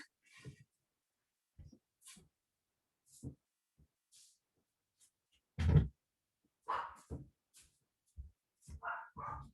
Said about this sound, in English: I'm going to go shut the doors so you don't have to listen to my Chihuahua bark